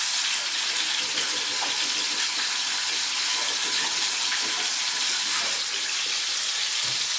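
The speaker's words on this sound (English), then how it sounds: "I'm going to go ahead and wash my hands" Steady broadband rush of running tap water, as when washing hands at a kitchen sink, continuous and fairly close for the whole stretch with no talk over it.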